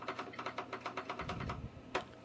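Rapid keystrokes on a Kaypro II computer keyboard, a steady run of close, crisp key clicks with a heavier thump near the end, heard alone without speech.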